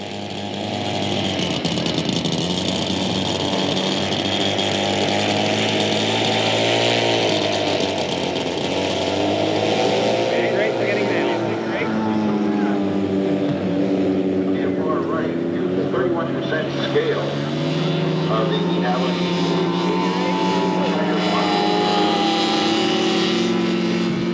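Twin-cylinder Moki 3.6 engine on a 111-inch-wingspan model de Havilland Tiger Moth at a scale flying event, droning steadily with shifting pitch as it passes, with people talking throughout.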